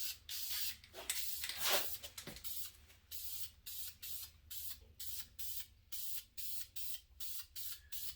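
Camouflage spray paint hisses onto a Hawk Helium climbing stick in a long spray, then a steady series of short, evenly spaced bursts, close and fairly quiet.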